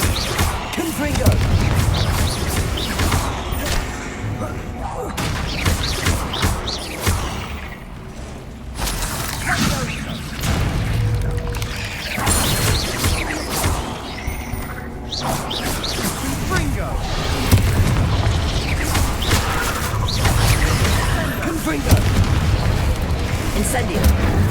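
Confringo explosive spell blasts in the Hogwarts Legacy video game, with repeated booming impacts and crackling bursts through a dense, continuous battle din, and a voice calling out spells over them.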